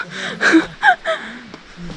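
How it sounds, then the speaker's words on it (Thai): Heavy, ragged breaths from a person hiking on a forest trail in Oudomxay, Laos, with several sharp gasping inhales and exhales in quick succession, close to the mic and alone. "แต่ตอนนี้หอบ"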